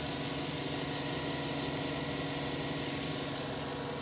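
Steady idle of a 5.3 liter V8 car engine, a constant low rumble heard up close, with no talking.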